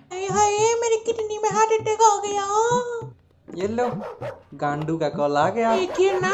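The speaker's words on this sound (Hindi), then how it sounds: "आपके फोन में कुत्ता भौंक रहा है।" Several short dog barks and whining howls come through a small phone speaker, mixed with a person talking over them.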